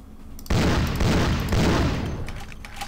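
Gunfire in the vampire RPG Vampire: The Masquerade – Bloodlines: three loud, close gunshot blasts about a second apart, each with a booming decay that runs into the next.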